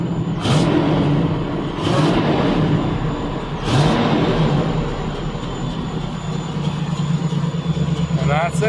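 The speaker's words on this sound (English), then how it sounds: "Give it a good little rev." Car or truck engine with a newly installed tachometer revs up in a few sharp bursts, loud and close, over a steady idle rumble.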